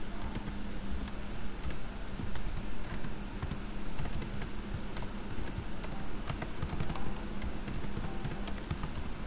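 Computer keyboard typing while code is entered, steady clattering keystrokes in quick irregular runs throughout, close and fairly quiet, with no talk over it.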